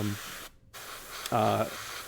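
An Infinity CRPlus airbrush sprays paint with a steady, airy hiss that cuts out for a split second and then resumes, joined briefly by a soft voice-like hum.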